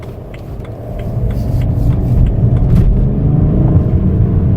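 A BMW 335d diesel car accelerates with a deep, rising engine rumble heard from inside, growing steadily louder over a few seconds with faint ticking and rattles.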